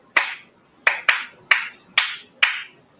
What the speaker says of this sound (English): Okay, I'll clap the first one. You imitate me, okay?